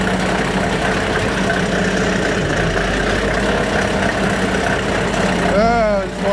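A combine harvester runs at a loud, steady idle-like drone as its wheat header is engaged, with a low continuous engine hum and a sweeping, rising whine near the end.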